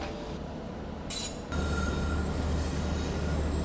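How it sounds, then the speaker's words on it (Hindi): The Garib Rath Express runs on its tracks out of New Delhi, a steady heavy rumble of wheels and carriages close by, with a brief shift in tone partway through and a faint high squeal over the continuous roar. "यहाँ पे सीधा आप लोग एंजॉय कीजिए इस रेस को, रफ्तार भरे ट्रैक साउंड्स को"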